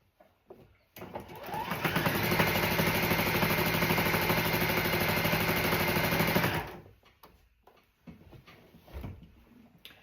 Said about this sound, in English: This sewing machine, I bet this thing's 30 years old or close to 30 years old.